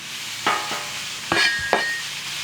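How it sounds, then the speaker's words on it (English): Small chunks of bacon render on a Blackstone griddle with a steady frying hiss, broken by a few sharp metal spatula scrapes and taps against the flat top. "What we're doing here, we're rendering the bacon."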